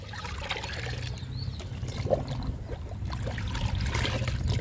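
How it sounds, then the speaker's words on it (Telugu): Homemade liquid fertilizer made from fresh cow dung is poured onto flowering firecracker flower plants, a close, steady trickle and splash of liquid that grows slightly louder. "ఇప్పుడు ఈ లిక్విడ్ని పూల మొక్కలకి ఇచ్చేద్దాము కనకాంబరాలకి ఇచ్చేద్దాము"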